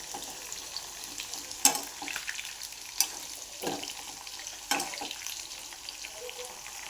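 Eggplant slices frying soft in hot oil in a pan give off a steady close sizzle, with a few sharp clicks and scrapes from stirring.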